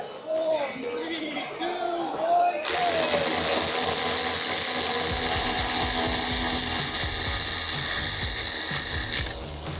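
Snap-on and Milwaukee cordless ratchets in a power test, spinning and clicking under load: a few short mechanical whirs and clicks mixed with a voice, then a loud sustained grinding mechanical whine that holds steady for several seconds before cutting off.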